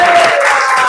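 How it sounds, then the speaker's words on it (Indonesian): A class of students claps together in a classroom during an Islamic religious education lesson, a brief burst of many hands striking at once, close and fairly loud. "tepuk tangan semuanya"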